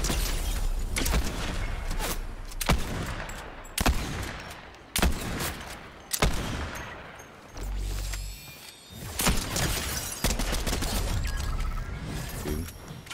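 Gunfire in Fortnite cracks out in a series of sharp, loud shots spaced roughly a second apart, with a few rapid bursts and mechanical clatter between them, no talking.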